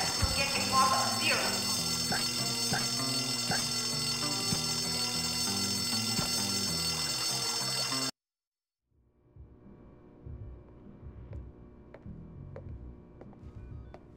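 A pulled school fire alarm rings in the Bully video game, a loud, continuous metallic bell that sounds for about eight seconds and then cuts off abruptly, followed by quieter background sounds and faint voices.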